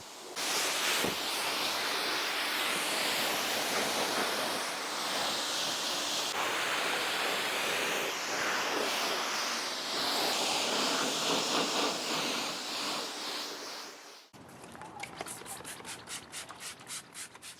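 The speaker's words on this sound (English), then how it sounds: "Rinsing off the lower parts of the vehicle and the rear end of the vehicle" Water sprays steadily from a hose onto the lower panels and rear of a ceramic-coated car, a loud dense hiss lasting most of the time before cutting to a pulsing, sputtering spray near the end, with no talking.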